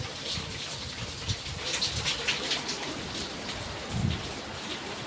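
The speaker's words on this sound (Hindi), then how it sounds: "प्रबल वर्षा हो" Heavy rain pours steadily in Bangalore, a dense continuous hiss of drops striking surfaces outdoors, with a few louder splashes and no talking.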